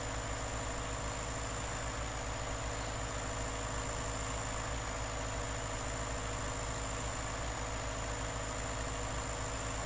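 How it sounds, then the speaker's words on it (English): In Farming Simulator 19, an old John Deere tractor sits idling with a constant, even engine hum and low mechanical rumble that holds steady throughout, with no talking over it. "Old school John Deere tractor."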